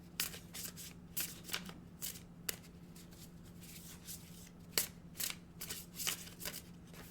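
Oracle cards being shuffled by hand, a run of crisp papery riffles and flutters repeating at close range over a low steady hum, with no talking.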